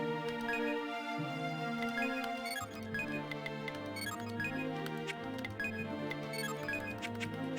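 FM synth music from the video game 7th Dragon plays continuously at steady volume, with layered bright tones and bass notes and no talking.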